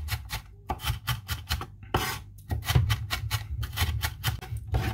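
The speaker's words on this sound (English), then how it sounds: "So you place the knife like this, you put your left hand on top, and you start chopping like so." Rapid, steady knife chopping through an onion on a cutting board with a rocking motion, crisp rhythmic taps close up with a brief pause midway, no talking.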